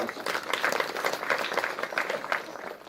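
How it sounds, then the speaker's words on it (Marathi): Audience applause at an award ceremony, a steady dense wash of many hands clapping that stays loud and even throughout without breaks. "म्हणून त्यांच्यासाठी टाळ्या"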